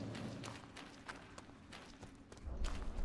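Soft footsteps in the survival-horror video game Resident Evil Revelations 2, a steady run of muffled thuds heard close and faint, with no talk over them.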